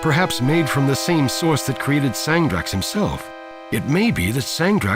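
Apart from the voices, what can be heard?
No everyday noises stand out.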